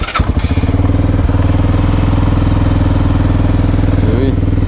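A Benelli Leoncino 125 motorcycle cranks and fires up, then settles into a loud, close, rapid steady idle thump that continues to the end.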